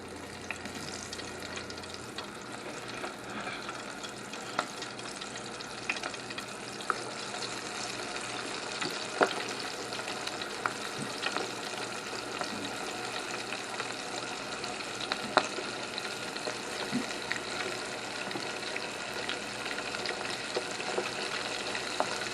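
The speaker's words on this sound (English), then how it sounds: "and then we're putting them in the deep fryer" Breaded deer oysters cook in a deep fryer, giving a steady, moderately quiet bubbling sizzle with scattered pops that holds evenly throughout, with no voices.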